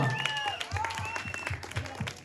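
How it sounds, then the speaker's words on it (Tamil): An audience applauds through a short burst of dense, continuous clapping at a Tamil debate event in Kamaraj Nagar, moderately loud with some voices mixed in. "எல்லாரும் ஒரு கைத்தட்டு கொடுத்துடலாமா?"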